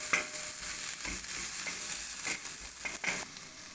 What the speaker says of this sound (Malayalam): ഇതിലോട്ട് ചിക്കൻ മസാല പൗഡർ ഇട്ട് കൊടുക്കാം. നന്നായിട്ട് മിക്സ് ചെയ്യാം.